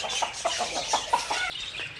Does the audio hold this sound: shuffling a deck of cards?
no